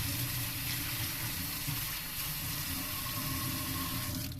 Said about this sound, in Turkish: Boyanın fazlasını döküyoruz tazikli suda 1-2 dakika yıkıyoruz.